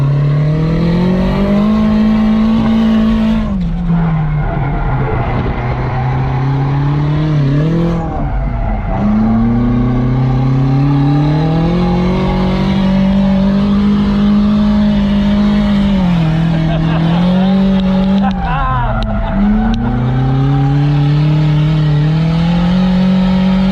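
A drift car engine at altitude drones loudly and steadily, its pitch rising and dipping through repeated revs, with occasional sharp drops as the throttle lets off; it has a slight ticking.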